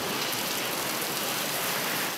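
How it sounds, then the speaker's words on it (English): Heavy rain driven by strong wind during a Chicago storm pours down in a dense, steady, unbroken hiss with no voices. "As the heavy rain and wind ripped through the center of the city"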